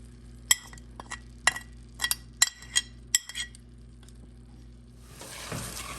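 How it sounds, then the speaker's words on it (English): Beef stew with tomato paste, salt, pepper and paprika frying in a pot: a utensil clinks sharply against the pot several times in an uneven rhythm, then a soft sizzle rises near the end. No voices. "And now we fry it again. So the paprika and salt, pepper can bloom a little bit."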